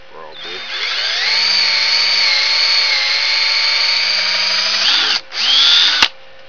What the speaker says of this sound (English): I've got to countersink them because this is so deep. So I'm going to bore probably.